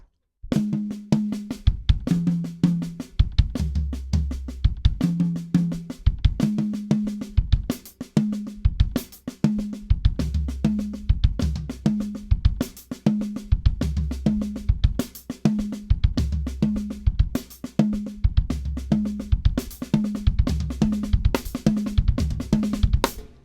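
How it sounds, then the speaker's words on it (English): A drum kit plays a slow, repeating fill of flammed snare strokes answered by pairs of kick drum hits, steady and close. "So playing that chop slowly with the placement, it sounds like this."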